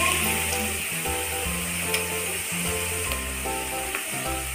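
Ginger and garlic frying in a pan for a ridge gourd chicken curry, a soft continuous sizzle with a few faint stirring clicks, under loud background music.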